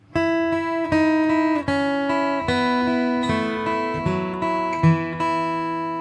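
Acoustic guitar plays a song intro run at a quicker pace, a string of bright picked notes and ringing chord tones moving steadily, close and clear with no talking.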